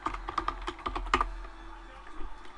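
Rapid, light keystrokes on a computer keyboard while a layer is named in Photoshop CS3, a quick burst of clicks that thins out toward the end, close and fairly quiet with no talking.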